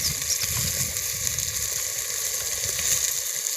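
Tomatoes fry in a pan for a chicken fry, a dense steady sizzle with crackling running throughout, close and without talk.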